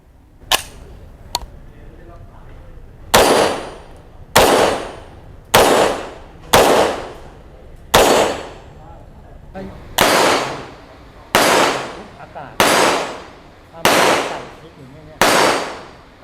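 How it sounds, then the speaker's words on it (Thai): An MP5K with UTG Pro accessories is test fired: about a dozen loud, sharp single shots, spaced roughly a second apart, each followed by a short echoing tail. "เดี๋ยวลองเรามาทดลองยิงสักชุดหนึ่งครับ"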